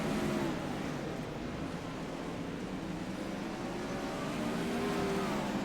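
A dirt track race car running on a winter-series racetrack, a broad continuous engine roar at moderate distance with faint rising and falling pitch, no voices.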